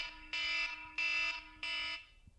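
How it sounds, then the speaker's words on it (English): An electronic alarm sounds three long, even beeps with short gaps between, fairly quiet and clear against near silence. "She got an alarm going off."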